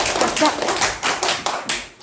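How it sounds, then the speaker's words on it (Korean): A primary school class clapping in unison for the final presenter, several loud, evenly spaced collective claps close by, with children's voices mixed in. "마지막 발표자에게는 800점 박수를 보내주세요"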